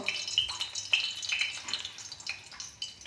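Battered Malabar spinach (pui leaf) fritters fry in hot oil, giving a steady crackling sizzle with soft clinks and stirring noises, moderately close.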